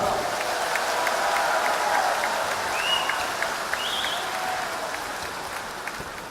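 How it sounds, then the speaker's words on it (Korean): Steady audience applause fills an indoor gymnasium at the 2014 Agent Orange Day memorial for Vietnam War veterans in Jamsil, Seoul, a moderate, even wash of clapping that slowly tapers off. "뜨거운 박수 다시 한번 부탁드리겠습니다"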